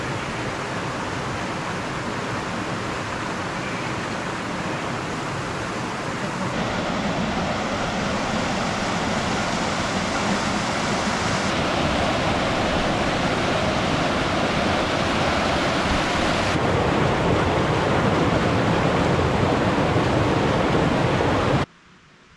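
Copper Creek flows beside a wilderness backpacking camp, a steady broadband rush of water close by that continues unbroken before cutting off abruptly at the end.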